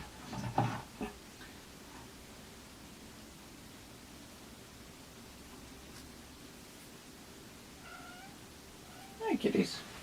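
A cat gives two meows, one near the start and one at the end, fairly close over quiet background hiss with soft distant sounds between them.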